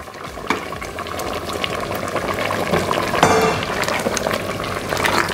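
Jengkol rendang simmering in coconut milk broth as the sauce reduces, a continuous dense bubbling and spattering at close range, steady and fairly loud throughout.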